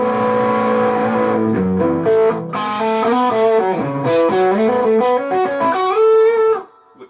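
An electric guitar played through a Line 6 Powercab Plus set to LF flat voicing gives loud, close, melodic single-note lines and bends with mild drive, stopping abruptly near the end.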